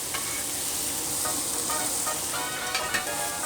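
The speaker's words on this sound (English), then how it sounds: "So cook the onions first, then you come back and get the garlic." Chopped onions frying in a pan for Zuppa Toscana soup, giving a steady loud sizzle with crackles and the occasional stir of a utensil, heard alone throughout.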